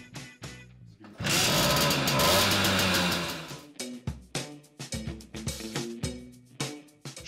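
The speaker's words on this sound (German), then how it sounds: "Die ersten Kickversuche tätigt ihr am besten mit dem Startvergaser" Simson moped engine kick-started with the choke on after a long standstill: a short burst of rough engine roar for a few seconds, surrounded by clunks and rattling handling noises, fairly quiet overall.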